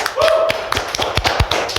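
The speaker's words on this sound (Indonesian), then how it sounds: "Tepuk tangan buat kita semua." Two or three hosts in a podcast studio clap together in a short, close burst of uneven taps and claps, with a voice briefly heard over them.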